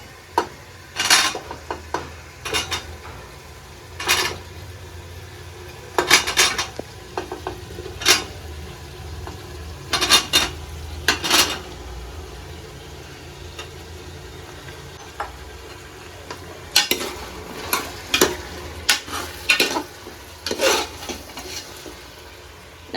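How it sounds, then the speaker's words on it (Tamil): Chopped vegetables stirred into sautéed tomatoes in a pan for sambar rice, as a spoon scrapes and clatters against the pan in repeated bursts. A low sizzle hums underneath, close and fairly loud. "இப்போ நம்ம காய்கறியை கொஞ்சம் கொஞ்சமாக அதுக்குள்ளே சேர்த்துக்கலாம்"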